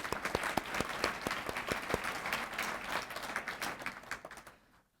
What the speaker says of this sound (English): So about a round of applause for that.